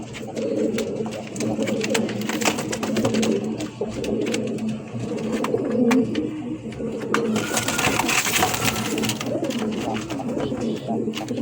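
A pair of Lahori pigeons, a blue male and a black female, coo repeatedly up close in a soft throaty rhythm, alongside other birds and faint background noise.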